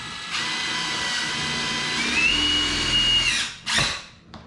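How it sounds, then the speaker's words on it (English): A power drill drives screws through the foam of a DIY floating boat canvas pole, whining steadily and loud for about three seconds, rising in pitch near the end, then a short second burst after a brief pause. "I'm gonna shoot screws right through there"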